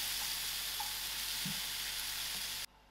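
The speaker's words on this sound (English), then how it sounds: "then I'll leave it to fry for about 10 minutes with the lid on" Cauliflower and potato fry in spices under a lid, a steady, dense hiss that fills the air close by and then drops off abruptly near the end.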